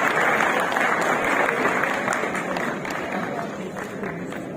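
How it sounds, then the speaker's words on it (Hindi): Audience applause fills a concert hall during a classical music festival at Alhamra Hall in Lahore: a dense, steady wash of many hands clapping that stays fairly loud and eases off slightly toward the end. "आपकी भरपूर तालियों में तशरीफ लाएंगे कैसर अब्बास"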